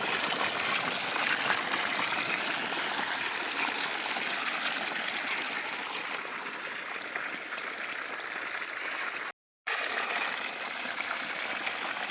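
Irrigation water runs steadily into a sorghum field, a continuous broadband rush and trickle close to the mic, with a brief dropout near the end before the flow resumes.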